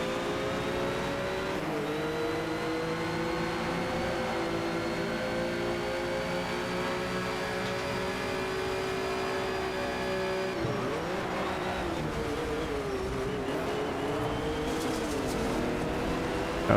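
Ford GT race car engine at sustained high revs in the Need for Speed Shift 2 racing game, a steady loud drone with pitch dips at gear shifts and corners, faint tire squeal, no talk.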